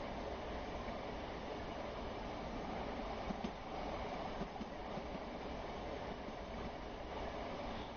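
A game train from Train Sim World 2020 coasts into Clapham Junction, giving a steady, muffled rumble of wheels on rails with faint clicks, quiet and continuous without voices.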